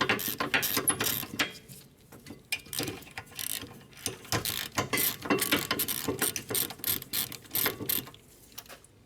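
A hand ratchet loosens the rear brake caliper bracket bolts on a Hyundai Santa Fe, with rapid clicking bursts repeating in uneven runs, close and loud, with brief pauses between strokes.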